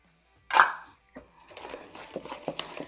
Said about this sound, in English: I like to break my eggs into another dish